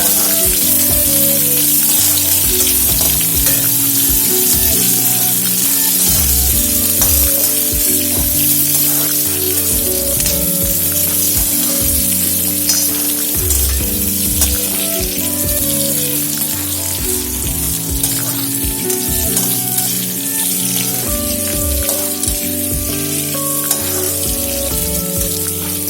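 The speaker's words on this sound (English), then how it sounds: "We will fry the onions till they are" Two thinly sliced medium onions frying in a pan for an Indian red gravy, giving a loud, continuous sizzle with crackling bursts throughout and no talking.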